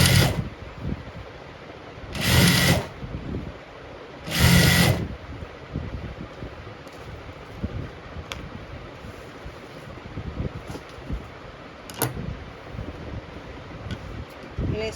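A sewing machine stitching lace onto hijab fabric, with two loud bursts of fast whirring stitching separated by pauses, over a steady background hiss.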